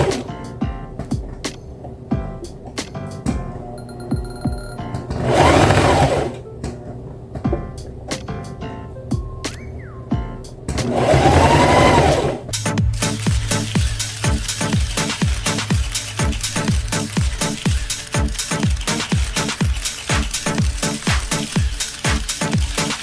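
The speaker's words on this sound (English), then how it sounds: "I'm gonna sew my bottom piece on with my sewing machine." A sewing machine stitching the bottom piece onto a black fur coat dress, a rapid mechanical whirring and ticking with short pauses, a couple of louder bursts, then a long continuous run of fast stitching.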